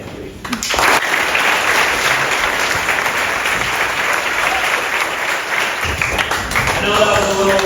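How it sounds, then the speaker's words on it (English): Loud, dense applause from a camp vespers audience follows a talk, a steady wash of many hands clapping that swells briefly near the end. "Thank you so much for your applause."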